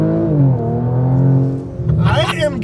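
Exhaust note of a lowered Porsche Macan GTS, a steady deep drone that rises and falls in pitch as the engine revs, loud and close, with a voice speaking briefly near the end.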